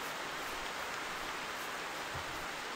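Steady rain in the hunting video game theHunter, a soft, even hiss of falling drops that stays faint and unbroken throughout, with no voices.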